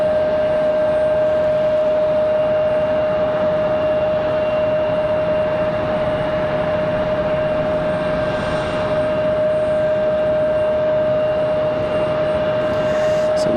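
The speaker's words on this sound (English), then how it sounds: "Looks like this American 737 will be leaving empty." At night at Raleigh-Durham International Airport, an American Airlines Boeing 737 runs its engines, producing a loud, steady jet drone with a sustained whine, close by and unbroken throughout.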